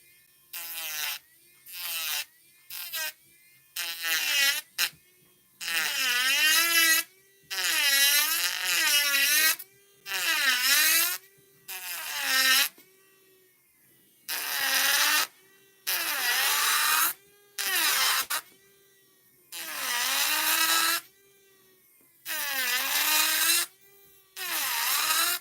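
An electric nail drill spinning at 25,000 RPM while working talon nails gives about a dozen loud, close, high-pitched whirring bursts, each lasting one to three seconds. The pitch wavers as the bit touches and lifts, with short silences between bursts.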